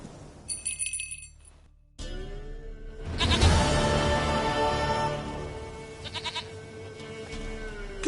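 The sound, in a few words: goat bleating in a video game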